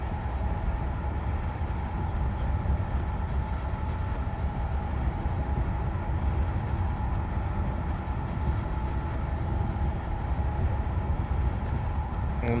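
An ÖBB 4746 Cityjet electric train in Train Simulator Classic rolls along with a steady, continuous rumble and hum from the cab, unchanging in loudness throughout, with no talking.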